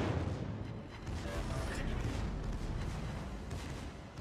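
Secondary guns of the Montana battleship firing in World of Warships: Legends, a dense, continuous roar of distant booms and rumbling blasts held at a steady level, with a voice faintly under the din.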